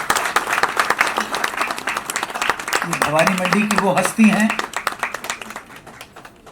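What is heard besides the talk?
audience applause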